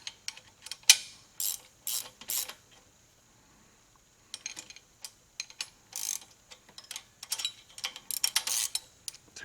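Two ratchet wrenches running up rear disc brake bolts in a garage, heard as close bursts of quick clicking in bunches, broken by a short pause partway through.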